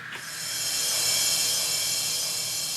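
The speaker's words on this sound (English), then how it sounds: "You have a cymbal." A synthetic cymbal sound effect from a Pioneer DDJ-SZ DJ controller swells into a bright, sustained hissing wash that holds steady and loud, metallic and noisy, with no voices.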